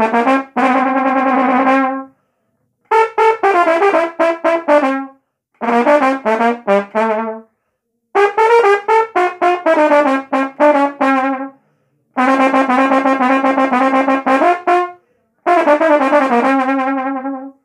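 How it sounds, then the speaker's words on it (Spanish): Trombone plays a solo alone, in six clear, loud phrases of rapid articulated notes separated by short pauses. "el solo ya completo, terminado, suena así"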